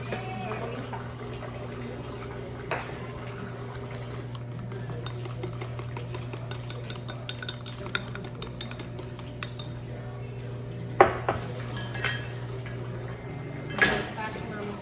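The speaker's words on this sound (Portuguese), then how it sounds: "Vou tirar umas panelas ali pra ele lavar também." Pots, pans and cutlery clinking and clattering in a home kitchen sink as they are handled for washing, scattered metallic knocks over a steady low hum, with a louder clank near the end.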